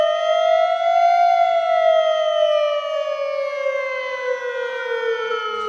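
A civil defense siren for chemical risk in Tarragona wails loud and close, one long steady tone that slowly falls in pitch, with no voices over it.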